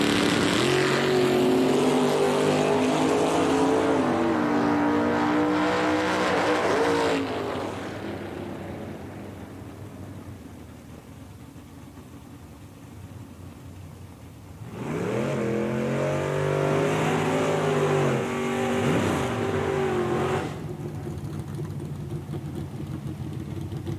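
A Chevrolet S10 and a Ford Mustang drag racing at Eddyville Raceway Park, two loud bursts of full-throttle engines climbing through gears, each run roaring for several seconds before fading, with quieter idle between.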